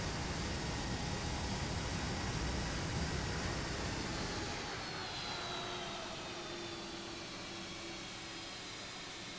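A Boeing 757 in the X-Plane 11 flight simulator roars with thrust reversers on landing, a loud broad rush that fades to a softer steady hum as the aircraft slows.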